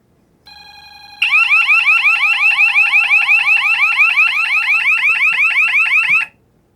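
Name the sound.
security system alarm going off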